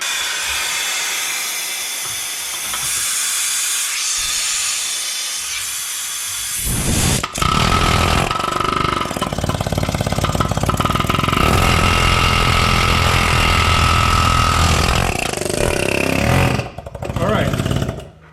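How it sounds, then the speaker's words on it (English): An air chisel works on a car's exhaust tailpipe near the muffler: a steady hiss of compressed air gives way to a loud, continuous rattling hammer that runs close and unbroken for about ten seconds before cutting out. "So now I'm going to try the air chisel."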